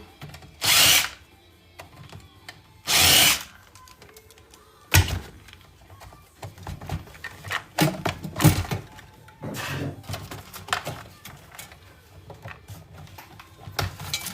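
A power drill whirs in two short bursts while screws come out of an electronics casing during teardown, followed by scattered clatter, clicks and handling knocks of parts close by.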